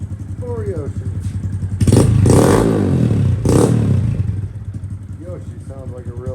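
Honda Grom motorcycle with a Yoshimura (Yoshi) exhaust idling close by, then blipped in two strong revs that rise and fall before dropping back to a steady idle.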